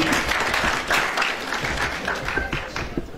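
An audience at a school regional competition claps steadily and densely for a teacher, a continuous loud round of applause with scattered louder claps and faint voices underneath.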